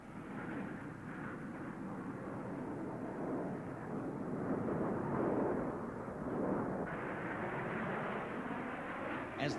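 Snowbirds aerobatic team jets flying at the 1985 Reno Air Races, a steady broad engine roar that swells gently and holds, distant and fairly faint throughout.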